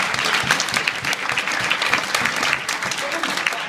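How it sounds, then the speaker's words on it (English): Steady, dense applause from an audience at a university public speaking event, loud and sustained throughout with no break. "Let's give these two a round of applause."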